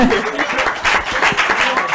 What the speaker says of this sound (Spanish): Un aplauso para los ganadores.